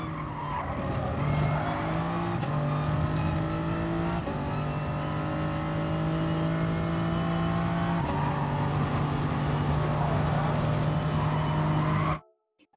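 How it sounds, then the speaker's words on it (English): A Gr.3 race car in Gran Turismo Sport accelerates hard out of a corner at Autodrome Lago Maggiore, its engine note climbing loud and continuous from second into third with brief shift breaks before cutting off abruptly. "you're accelerating all the way out from second into third"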